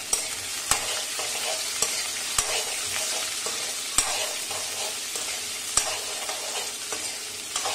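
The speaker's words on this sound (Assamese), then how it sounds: "অলপ ভাজি লম" Chopped onion, ginger and garlic sizzle steadily in hot oil, with sharp scraping stirs of a spatula striking the pan every second or so, close and fairly loud without any talk.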